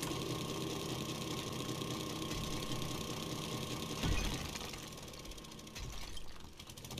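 A motorcycle engine from 7 Days to Die Alpha 18 hums steadily at a fast, buzzing idle-like drone, fairly close, with a brief louder thump midway and slight variation toward the end.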